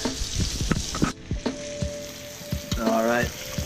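Spanish mackerel frying in a pan, a steady close sizzle with crackling pops and some stirring clatter throughout.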